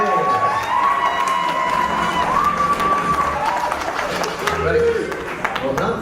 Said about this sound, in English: Big round of applause for our beautiful volunteers